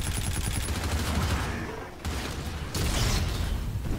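Gunfire from the futuristic shooter Call of Duty: Infinite Warfare, a steady loud barrage of rapid shots and booms running the full length with no gaps, a brief dip midway, and no talk.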